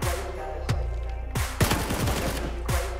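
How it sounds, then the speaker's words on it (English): Loud booming shots in the video game PUBG, from a shotgun, a sawed-off, fire in several separate blasts with rumbling tails and scattered impact crackle, close and without talk. "Got a shotgun, I think."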